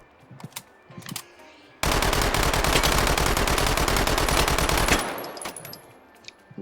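Simulated submachine gun in the VR shooter H3VR fires one long full-auto burst of about three seconds, loud, rapid and steady, with softer handling clicks before and after.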